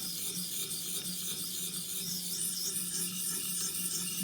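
A Benchmade Mini Adamas knife blade is being sharpened to a mirror edge, giving a steady, continuous close rasping rub with no talking.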